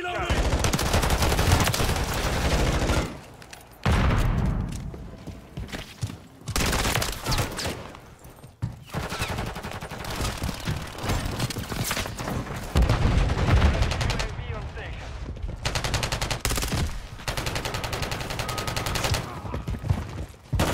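Rapid SMG and rifle gunfire in Modern Warfare 3, loud automatic bursts repeating across the stretch with short pauses between volleys.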